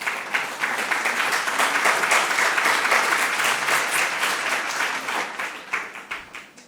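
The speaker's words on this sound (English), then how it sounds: "Round of applause to the contestants" An audience at a school quiz contest between junior high schools applauds the contestants, a steady, dense wash of clapping from many hands that swells and then tapers off near the end.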